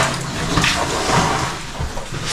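Broadband rushing of water flowing back into a river cave passage, loud and close, a steady wash with small splashy surges.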